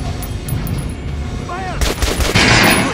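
Gunfire at a training dummy on a shooting range in the video game Metro Last Light, a burst of loud shots arriving near the end after a quieter stretch.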